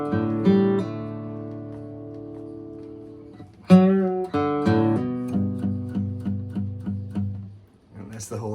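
Acoustic guitar plays the intro to a song: sustained chords ring at first, then after a brief break a brighter passage comes in with steady eighth-note bass strikes and chord hits, close and clear, no talking.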